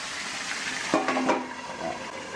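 Oil sizzles steadily as tilapia fries in a pan, with a brief louder crackle and some stirring midway, no voices.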